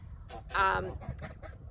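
Geese and ducks kept in a homestead yard give a short burst of honking, close and moderately loud, with a few softer calls trailing after.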